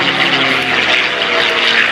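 A P-51D Mustang named Quicksilver with a Rolls-Royce Merlin V12 liquid-cooled engine flies at an airshow, its propeller engine a loud, steady droning roar throughout.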